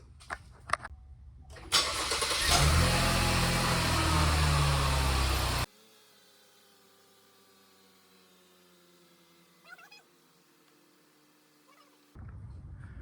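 A 2020 Chevy Blazer with a 3.6 engine cranks and fires up, settling into a loud, steady running roar that cuts off abruptly, followed by quiet background with faint clicks before the engine noise returns.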